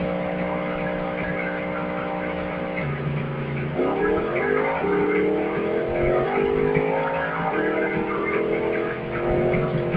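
Drag race car engine in IHRA Drag Racing 2, making an all-motor pass with no nitrous: a loud, steady engine roar that climbs in pitch, drops sharply at a gear change, then climbs again through a second shift.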